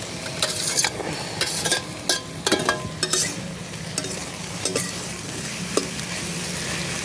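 Shrimp being stirred into a water lily curry in a pan, with a spoon repeatedly scraping and clinking against the pan over a faint steady sizzle, close and moderately loud, no talking.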